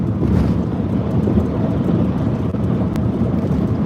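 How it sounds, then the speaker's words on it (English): Loud, gusty wind in Palm Springs buffets the microphone nonstop, a dense low roar with brief surges, and no voices. "Wow, it's windy"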